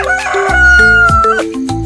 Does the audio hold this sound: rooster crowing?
yes